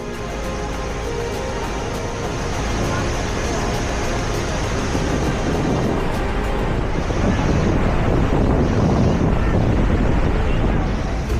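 A loud, continuous roaring rush of falling water with heavy wind buffeting and swirling mist, dense and unbroken, heard from a tour boat right beside Niagara Falls.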